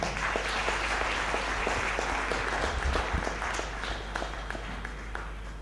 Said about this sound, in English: Can we please have another round of applause for Katindi?